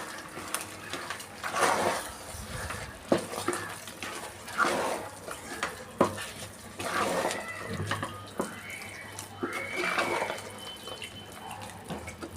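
Jaggery syrup is stirred into cooked rice for sweet pongal, making wet sloshing and scraping sounds in irregular bursts at close range, with no talking.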